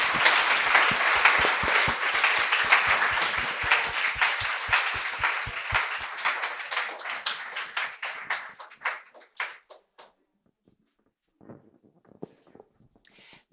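An audience at an evening panel discussion on microplastics claps in a loud, dense round of applause that thins to scattered claps and dies away, with a few faint sounds after.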